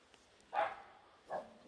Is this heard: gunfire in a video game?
no